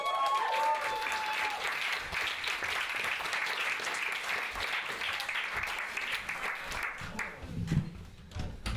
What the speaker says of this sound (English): please give a huge Neukölln Confessional round of applause for James Harris!